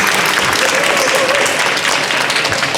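A conference crowd applauds a young academics' pitch team from Ghana taking the stage, a dense, loud, even wash of clapping throughout.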